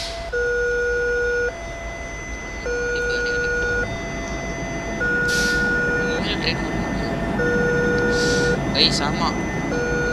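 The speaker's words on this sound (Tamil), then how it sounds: "உண்மையிலே ட்ரெயின்லாம் கிராஸ் ஆகுது" At a train crossing in a bus simulator game, warning bells and tones alternate in a steady two-pitch pattern while a rumbling train passes, with someone talking over it.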